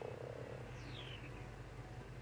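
A Minecraft frog croaks in a wooded game world, one low, drawn-out croak with a brief higher chirp sliding down midway, heard alone at moderate level over a steady low hum.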